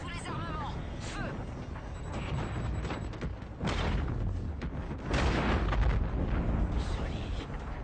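Artillery barrage in a video game strikes a target, a dense stretch of booming blasts and rumbling explosions that builds louder in waves across the clip, with voices and game audio woven underneath.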